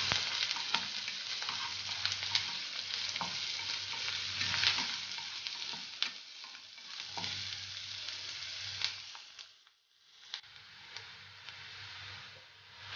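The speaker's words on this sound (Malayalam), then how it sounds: "സബോള ഇളക്കുന്നു." Onions stirred and fried in hot coconut oil for a potato stir fry sizzle steadily at close range, with scraping strokes of a spatula and a brief lull midway, no voices.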